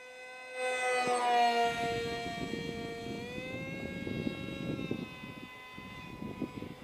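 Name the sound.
RC MiG-29 model jet flying overhead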